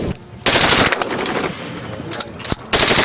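Bursts of rifle fire from test firing of KCR 556 and KMR 762 rifles at a defence exhibition, loud rapid volleys with short pauses and broadband crackle in between.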